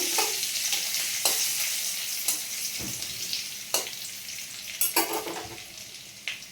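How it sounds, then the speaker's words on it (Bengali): Garlic sizzles in hot oil with cumin seeds in a pan, a steady bright frying hiss broken by several sharp stirring clatters, close and fairly loud, with no voices. "জিরে হয়ে গেছে, এবার আমি রসুনটা দিয়ে দেবো।"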